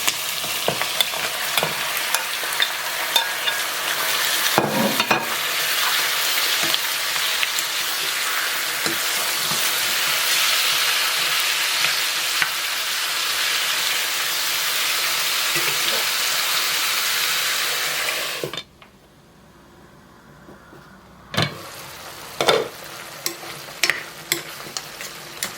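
Meat sizzles steadily in a hot pan and is stirred now and then with scraping knocks, the frying roar running loud and close until it briefly drops away, then returns with more clattering stirs.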